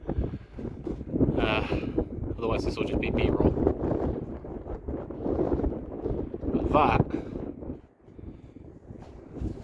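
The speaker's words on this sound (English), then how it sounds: "Hopefully it's not so windy that you can't hear me." Strong wind on a mountaintop on the Appalachian Trail roars and buffets the microphone in gusts while a person talks over it, the voice partly swamped by the rushing air.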